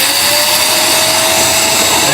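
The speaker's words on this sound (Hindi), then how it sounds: "वैक्यूम जो है इसमें कोई इशू हो गया" A faulty vacuum cleaner runs very loudly, making a constant, harsh, high-pitched motor whine that is close and unbroken throughout, with no speech.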